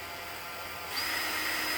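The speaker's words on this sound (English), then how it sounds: "The old electric aided fastener screwer downer in there." An electric screwdriver drives a fastener into the MAP sensor on a 1999 Chevrolet Silverado with the 4.8 liter engine: a faint background hum, then a thin motor whine that starts partway through and holds steady to the end.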